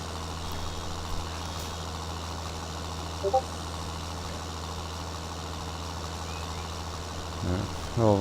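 Combine harvester and tractor engines in Farming Simulator 19 drone steadily and evenly throughout, with a few faint clicks and a brief rise near the end.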